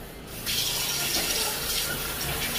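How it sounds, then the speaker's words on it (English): Tap water runs steadily as freshly cooked macaroni is rinsed and drained in a sieve. The loud, continuous gush starts suddenly after a short quiet moment and holds close and unbroken, with no talking. "So our macaroni is ready. I'm just going to go ahead and rinse and sieve it."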